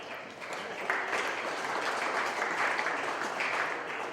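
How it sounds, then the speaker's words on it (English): Spectators at a red and white dairy cattle show give exhibitors a round of applause, a steady patter of clapping from a moderately distant crowd in an arena. "let's give these exhibitors a nice round of applause"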